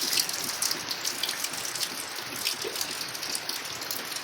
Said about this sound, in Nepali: यस्तो मजाले पानी परिसकेछ